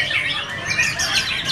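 A white-rumped shama (murai batu) kept as a caged songbird in Vietnam sings a loud, close, continuous run of bright chirps and warbling whistles, with no voices present.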